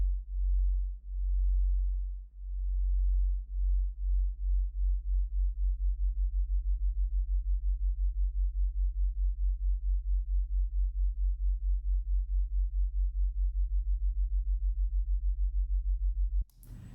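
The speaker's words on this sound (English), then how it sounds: "That perfectly detuned sine wave" A low, steady detuned sine-wave synth tone hums with a slow beating wobble that speeds up over time, then cuts off abruptly at the end.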